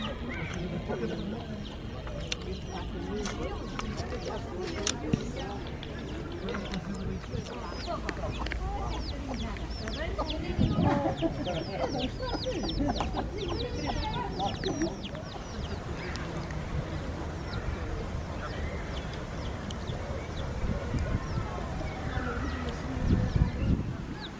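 A rooster and hens clucking in a park in Cascais near Lisbon, with scattered clucks and calls over outdoor ambience while people talk throughout.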